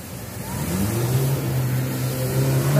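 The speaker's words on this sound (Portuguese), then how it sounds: "Olha essa Audi." An Audi car drives past on a street, its engine note rising and swelling as it revs and nears, growing louder toward the end, with no voices.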